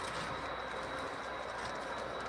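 A train rolls past on the Union Pacific Evanston Subdivision, a steady, broadband rumble of wheels on rails with a faint high whine, heard at a distance and fairly quiet, with no voices.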